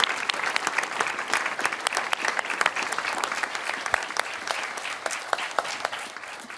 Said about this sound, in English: To do something together, a warm applause, welcoming Luc and thanking our panel.